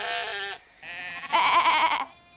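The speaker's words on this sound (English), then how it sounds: "All the sheep have a different call." Sheep bleat loudly and close by: a wavering cry, a short pause, then two more overlapping bleats that quaver and fade.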